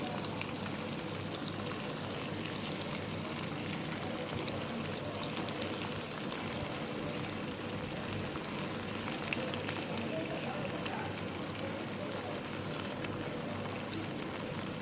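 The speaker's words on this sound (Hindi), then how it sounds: "अब हम इसके अंदर बंद गोभी डाल देंगे।" Shredded cabbage hits capsicum already frying in a pan for vegetable fried rice, producing a steady, soft hiss and patter that runs unchanged at moderate volume throughout, without speech.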